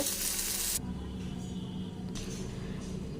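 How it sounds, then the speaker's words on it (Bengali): Spiny gourd (kakrol) with grated coconut and jaggery sweetening fries in a pan, opening with a loud, bright sizzle that drops to a softer steady frying hiss, close by and without talk. "তো ভাজাটা হয়ে গেছে, এবার ভাজাটা নামিয়ে নেব।"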